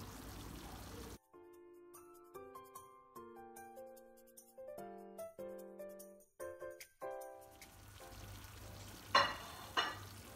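Grilled sausage pieces are gently stirred in a pan, giving a soft sizzle with light clinks of the utensil at the start and end, while a tuneful melody plays through the middle.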